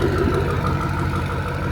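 A Ford Mustang fitted with Corsa Extreme mufflers idles nearby with a steady, deep exhaust burble and no voices over it.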